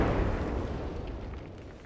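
An explosion booms in the video game Apex Legends, a loud burst at the start fading into a rumbling decay over about two seconds, with no voices.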